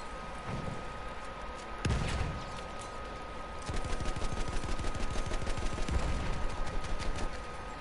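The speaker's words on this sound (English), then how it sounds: "Shoot your gun some more" Battlefield 1 multiplayer combat brings steady rattling automatic gunfire mixed with heavier distant blasts and booms, building into a dense, sustained fusillade with no voices.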